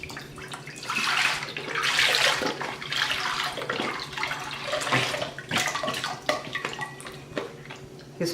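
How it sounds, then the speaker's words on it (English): A 32-ounce container of vegetable broth pours into a crock pot, giving a steady splashing, gurgling liquid stream that runs for several seconds with occasional clinks, fairly close and with no talking. "in my crock pot, I'll put in one 32-ounce container of vegetable broth"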